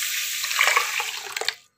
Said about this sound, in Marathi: हे तांदूळ पण आपल्याला 2 पाण्यानं धुवून घ्यायचे